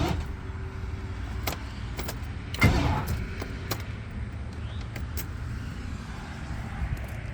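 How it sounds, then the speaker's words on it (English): A Range Rover Classic's starter motor strains against a seized crankshaft, giving a low, steady grinding drone with one brief louder clunk partway through and no engine catching. "What you're hearing is, I guess, the starter loading up."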